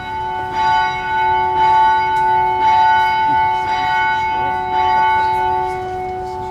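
Carillon bells ring in a slow, regular sequence of struck tones, each strike leaving a long sustained hum that overlaps the next, close and fairly loud.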